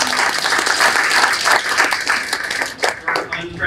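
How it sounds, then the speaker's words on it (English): An audience applauds for several seconds, a dense patter of many hands clapping steadily at moderate volume in a hall, with a brief dip near the end. "can clap if you want"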